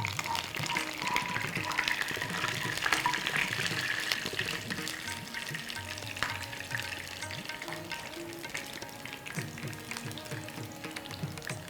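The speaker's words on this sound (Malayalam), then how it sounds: "2 സ്പൂൺ വെളിച്ചെണ്ണ ഒഴിച്ച് കടുക് താളിക്കാൻ വേണ്ടിയിട്ട് 1 സ്പൂൺ കടുകിട്ട് 1 സ്പൂൺ ഉലുവയിട്ട്" Mustard and fenugreek seeds splutter in two spoons of hot coconut oil in a pan, a dense crackling sizzle with sharp pops, close and loud, easing slightly toward the end.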